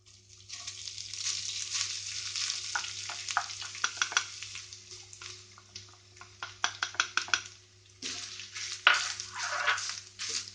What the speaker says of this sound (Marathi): सोय आमकां मातशी परतून घेवपाक जाय, 1 मिनिट।